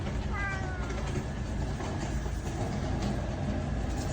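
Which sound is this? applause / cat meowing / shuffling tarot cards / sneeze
cat meowing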